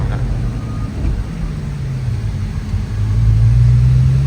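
Bugatti Mistral accelerating at full speed, heard from inside as a loud, deep engine drone and road rumble whose pitch climbs steadily and grows louder toward the end.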